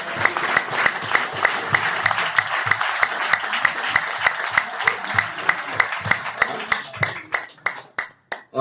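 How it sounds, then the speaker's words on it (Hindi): A seminar audience breaks into loud, dense applause that keeps going for several seconds, then thins to scattered separate claps as it dies away. "एक बार जोरदार ताली।"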